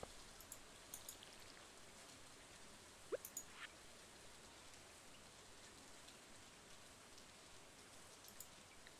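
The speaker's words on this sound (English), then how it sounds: "And it's raining." Rain falls in the farming video game Stardew Valley, a faint, even hiss of steady rainfall with a few soft clicks and taps scattered through it.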